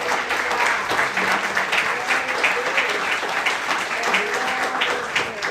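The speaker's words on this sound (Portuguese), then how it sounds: "Uma salva de palmas ao Senhor." A church congregation claps together in sustained, dense applause at a Sunday service, with faint voices mixed in under the clapping.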